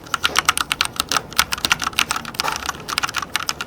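Rapid, continuous clicking of keys on a fairly quiet computer keyboard, a fast irregular patter heard up close with no talking.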